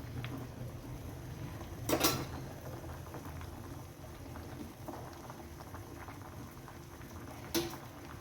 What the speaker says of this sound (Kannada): ಇನ್ನೊಂದು 2 ನಿಮಿಷ ಕುದೀಲಿ ಚೆನ್ನಾಗಿ